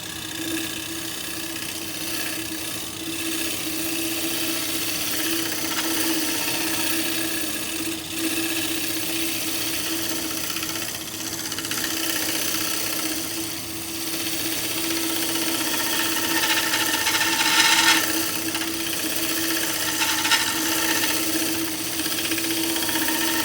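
Wood lathe spinning at just over 1500 RPM while a bowl is hollowed, a steady hum and whir with faint tool scraping, moderately quiet and continuous with no talk.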